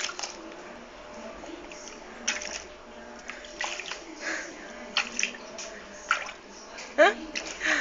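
A baby being bathed in a tub, with soft splashes, squishes and drips of water scattered irregularly under close adult and child chatter.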